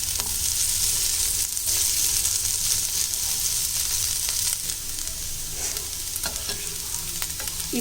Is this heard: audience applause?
no